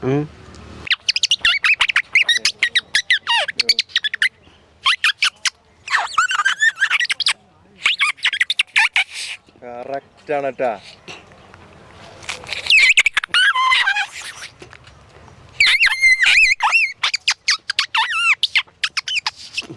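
A person mimics lovebirds using a green leaf, producing rapid, high squeaky chirps and whistles in bursts, pausing briefly between runs, with a few spoken words mixed in.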